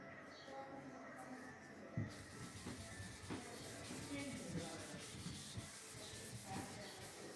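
Writing being rubbed out on a classroom board: a soft, continuous scrubbing and rubbing close by, steady for several seconds with faint scrapes, in a quiet room.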